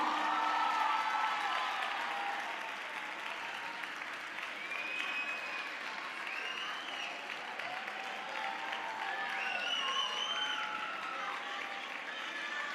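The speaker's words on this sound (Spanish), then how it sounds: "un aplauso fuerte, claro que sí" A crowd at a carnival troupe presentation applauds loudly and at length, steady clapping with scattered cheers and whoops, while a voice speaks over it now and then.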